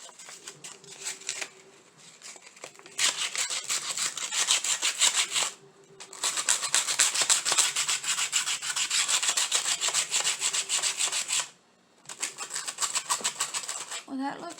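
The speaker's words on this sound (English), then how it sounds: "let me get a little sandpaper here and see." Sandpaper rubbing on a small Dollar Tree craft piece in a spring and summer DIY project, long rhythmic back-and-forth scratching strokes in close bursts, separated by brief pauses.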